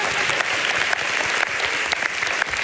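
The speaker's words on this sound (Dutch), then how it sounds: "Hartelijk applaus" Hearty applause from an audience at a Dutch talk-and-debate evening, steady dense clapping that fills the whole stretch without pause, loud and close, with no voices rising above it.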